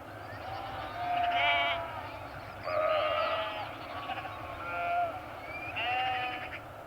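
Sheep bleat repeatedly on the Yorkshire moors, several drawn-out calls in turn at moderate distance over a steady low background rumble.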